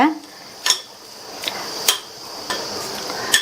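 Grated coconut cooking in melted ghee in a pan, with a steady faint sizzle beneath a few sharp metallic clinks of a spoon or spatula against the pan at irregular intervals.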